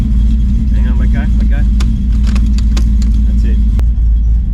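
Custom Harley Davidson Low Rider ST motorcycle engine, a loud, deep, steady idle rumble close by, with brief clicks and higher bursts over it and people talking nearby.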